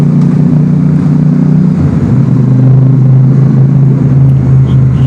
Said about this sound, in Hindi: बाइक का साउंड भी सुनो एग्जॉस्ट का।